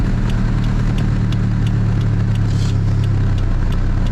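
A car's hazard light relay clicks at a steady, even rhythm, faint and regular over a constant low engine idle hum.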